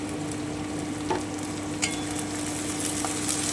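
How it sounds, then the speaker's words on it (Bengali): Capsicum and chillies frying with onion in a pan for chilli prawn, a steady close sizzle with a few soft stirring clicks and scrapes, no talk. "এবারে আমি ক্যাপসিকামটা দিয়ে দিচ্ছি আমি লঙ্কাগুলো দিয়ে দিচ্ছি"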